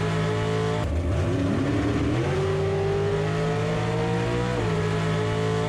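A drag race car launches hard off the line at the start of a heads-up race, its loud engine note dropping then climbing steadily as it accelerates, close and continuous with no talking.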